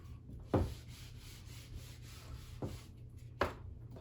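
A board eraser wiping writing off a classroom board in a physics lesson, heard as three short, close rubbing swipes over a quiet room background.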